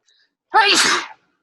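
A single loud sneeze close by, bursting out sharply after a moment of silence and fading quickly.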